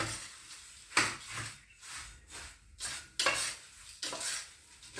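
Spiced poha chivda mixture being stirred in a pan, with repeated scraping and rustling strokes of a spoon against the metal in an irregular rhythm, close and moderately quiet, with no talk over it.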